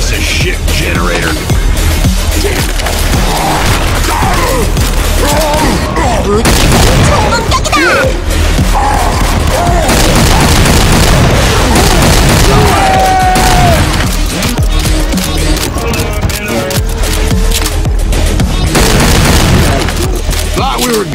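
Grenade blasts and bursts of gunfire from the Left 4 Dead 2 video game, loud and dense throughout with repeated booms and crackling shots, mixed with shouting voices and game sounds.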